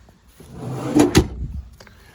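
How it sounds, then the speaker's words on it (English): A slide-out storage drawer over the driver's side wheel well of a 2018 Ford E450 McCoy Miller truck body is worked, giving two close, sharp knocks with a short sliding rumble between them. "This McCoy Miller body has a unique slide out drawer over the driver's side wheel well."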